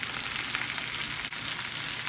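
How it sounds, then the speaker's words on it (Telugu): Chopped brinjal pieces fry in a pan with ginger-garlic paste, giving a steady, loud, close sizzle that runs unbroken throughout, with one brief dip near the middle and no voices. "ఇప్పుడు వంకాయల్ని బాగా వేయించుకుందాము."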